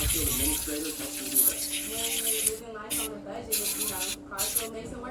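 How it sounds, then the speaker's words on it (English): A steady aerosol spray hisses in short bursts and pauses at close range, cleaning the blades of a Wahl cordless Magic Clip hair clipper, with a voice speaking throughout. "I spray it off usually."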